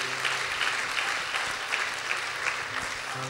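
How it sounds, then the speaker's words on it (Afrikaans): A church congregation at a Sunday morning service gives a warm round of clapping, an even, continuous patter of many hands at moderate distance lasting several seconds. "Kom ons gee julle 'n lekker hande klap."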